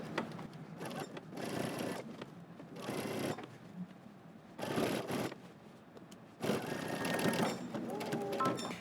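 Sewing machine back stitching near the sleeve head of a jacket, running in several separate bursts of fast mechanical stitching with short pauses between, close and fairly loud.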